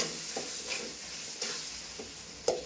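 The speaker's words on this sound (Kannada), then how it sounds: "ಅರಿಶಿನ ಪುಡಿ ವಾಸನೆ ಹೋಗಬೇಕು ಅಲ್ಲಿವರೆಗೂ ಫ್ರೈ ಮಾಡ್ಕೊಳ್ಳೋಣ" Tomatoes frying with turmeric powder in oil in a pan, a soft continuous sizzle with a spatula scraping and stirring at a steady rhythm, close and moderately quiet, with one sharper knock near the end.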